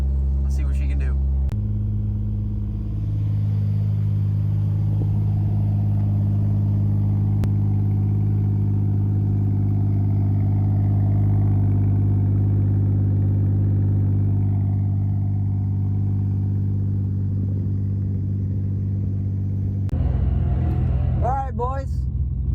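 Toyota Supra engine idling steadily at a drag strip, a loud, close mechanical drone held for most of the stretch, with brief revving bursts at the start and end.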